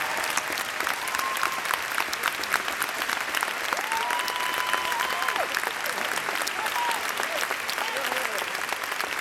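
Steady applause from a large audience at a political conference speech, dense clapping throughout at an even level, with a few faint voices in the background.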